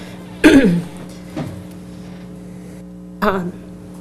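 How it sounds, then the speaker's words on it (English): Two short, sharp coughs ring out close by in a council meeting room, with a smaller throat sound between them, over a steady low electrical hum. "Sorry, I coughed and I lost my train of thought."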